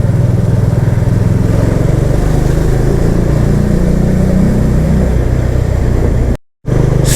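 A motorcycle ridden on a mountain road toward Srinagar gives a loud, steady, close engine drone with little change in pitch, cutting out briefly near the end.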